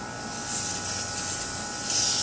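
Compressed air escapes from leaks in an air line on a mower deck repair job, a steady close broadband hiss that swells slightly in two bursts.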